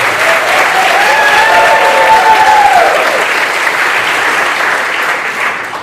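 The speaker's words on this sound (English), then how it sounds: "Can you clap your hands on that?" An indoor crowd at a patriotic church celebration claps together in a dense, loud burst of applause that swells and then slowly tapers, with a few faint voices rising through it.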